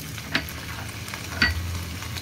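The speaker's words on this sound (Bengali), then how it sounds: "কোপ্তা ভাজা তেলে আমি এবার আলুগুলোকে ছেড়ে দিচ্ছি" Raw potatoes, salted and dusted with turmeric, dropped into hot oil left from frying kofta, sizzling steadily up close with two sharper crackles as pieces hit the oil or get stirred.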